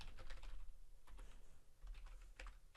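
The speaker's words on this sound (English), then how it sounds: "I'm going to type set-location" Keys clatter on a computer keyboard while a command is typed into a Windows prompt, in quick irregular bursts of clicks with short pauses between, close and fairly quiet with no voices.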